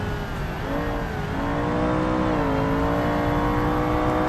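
A BMW 5 Series engine in the BeamNG driving game drones loudly and steadily, its pitch dipping and rising slightly as the car is driven, with no talk over it.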